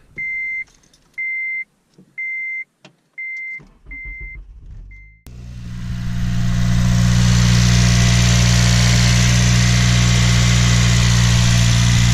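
A Honda car's dashboard chimes beep in a steady repeating pattern, then the engine cranks, catches and settles into a loud, steady idle with a deep, continuous rumble, close by and with no talking.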